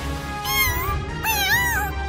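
A cat meows twice in quick succession, each call a rising and falling tonal cry heard close and fairly loud over a low background hum, with no talking.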